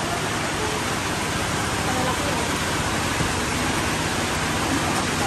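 Heavy rain pours steadily outside a provincial house, a dense, even hiss and patter that stays loud and unbroken throughout with no pauses.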